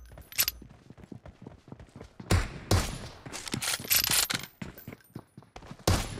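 In a multiplayer team room match video game, a weapon reloads with quick mechanical clicks and clacks mixed among sharp bursts of gunfire and scattered impacts. The action stays busy and uneven throughout.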